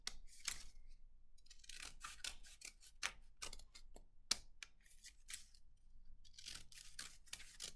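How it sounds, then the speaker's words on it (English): Scissors snip paper for a classroom snowflake, a quiet, close series of quick crisp cuts in irregular bursts with small pauses between them, with no talking. "So let's make several cuts, but again, do not cut all the way to the edge."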